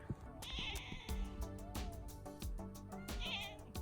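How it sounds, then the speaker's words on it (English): Several cats meow and wail close by, in a run of overlapping cries outdoors at the ancient ruins of Butrint in Albania, with no talking. "There are so many kitty cats here."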